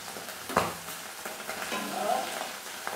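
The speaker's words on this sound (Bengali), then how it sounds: "একদম লাল লাল করে মাছগুলোকে এভাবে আমি ভেজে নিচ্ছি।" Small pona fish fry in hot oil in a pan, a continuous close sizzle broken by a sharp utensil clack and scraping stir sounds, with no talking.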